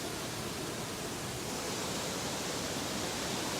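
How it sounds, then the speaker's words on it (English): A big waterfall in the mountains roars as a steady, dense broadband rush, constant and unbroken throughout with no voices over it. "Big waterfall."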